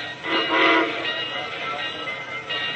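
A departing train in a radio drama effect, a steady rumbling roll of railroad cars with a brief swell of hiss and whistle-like tone near the start, fairly loud and continuous, with no voices over it.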